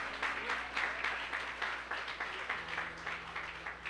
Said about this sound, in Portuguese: Aplauda Jesus, irmão